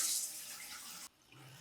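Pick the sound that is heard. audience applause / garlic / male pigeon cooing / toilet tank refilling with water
toilet tank refilling with water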